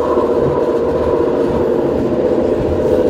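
A train running on the eastbound track rolls steadily over a track switch, a continuous low rumble with a rough rattling texture, close and even throughout with no talking.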